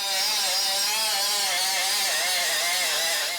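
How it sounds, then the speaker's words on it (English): An air grinder cleans a cracked joint on an aluminum ramp, producing a loud, continuous high-pitched whine with wavering tone as it bites into the metal, close and alone. "That's it, I'm getting the air grinder."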